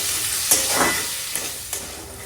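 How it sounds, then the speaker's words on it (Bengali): Onions fry in a pan until browned, giving a constant close sizzle broken by a few sharp scrapes and stirs. "পেঁয়াজটাকে ভালো করে ভেজে নেবো লাল লাল করে"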